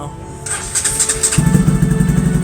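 RS200 motorcycle engine after repair, starting up and settling into a steady, close idle with a rhythmic low putter.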